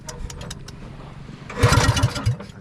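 A boat engine at sea sputters and catches, rising into a loud chugging rumble with rapid rhythmic pulses after a quieter stretch of faint clicks.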